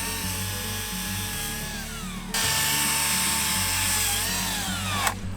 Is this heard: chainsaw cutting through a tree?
yes